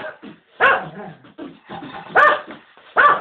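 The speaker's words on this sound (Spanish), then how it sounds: "¿Y cómo dice el perro?" A dog barks on command, giving three sharp, separated barks at an even pace, close and loud, with softer yips and whimpers in between.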